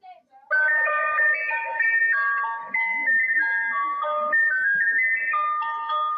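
A historical German emergency alert siren plays a bright, stepped melodic chime tune, sounding much like an ice cream truck jingle, steady and loud for several seconds after a brief quiet start.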